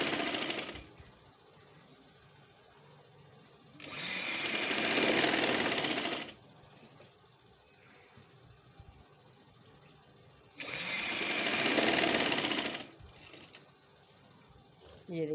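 Sewing machine stitching dori piping onto a kameez, two loud sustained runs of rapid needle clatter, each a couple of seconds long, separated by quieter gaps.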